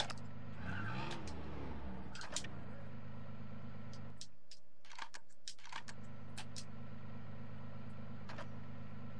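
Car driving in the PS2 video game Scarface, one of the game's fastest cars: a steady engine drone with a rising rev sweep early on. The engine briefly drops out midway and then resumes, with sharp clicks scattered throughout.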